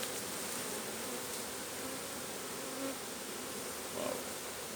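A swarm of honeybees being collected in April drones in a dense, continuous buzz, near and steady, with occasional louder individual passes and no talking.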